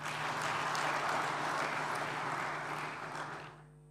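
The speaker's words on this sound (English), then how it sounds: "We can clap for them." Audience applause at the opening ceremony of a conference in Kigali, a steady dense wash of clapping from a large room that holds evenly for a few seconds before fading out.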